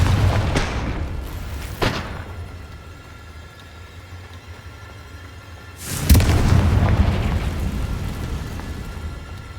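Confringo spell blasts in Hogwarts Legacy, with two sharp explosive bursts early on and then a bigger, louder boom that rumbles and decays slowly, all with no speech.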